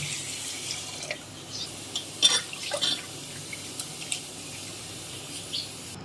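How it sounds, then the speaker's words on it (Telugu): Lentils and rice being washed in water for sweet pongal, with soft sloshing and splashing under a faint background hiss, a few louder swishes near the middle, and no speech. "ఇప్పుడు ఈ పప్పు బియ్యాన్ని మనం శుభ్రంగా 2 టైమ్స్ వాష్ చేసుకుందామండి"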